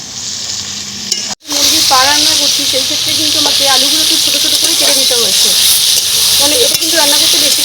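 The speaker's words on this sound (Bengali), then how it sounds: "আলুগুলো লাল লাল করে ভাজা হয়ে গেছে প্রায়" Small cut potato pieces fry in hot oil with a loud, continuous sizzle. A short scraping stir briefly drops out early on, and a voice talks over the frying.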